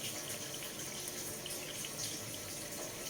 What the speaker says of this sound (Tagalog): tapos lagyan natin ng tubig para matunaw siya tunawin lang po siya ng maigi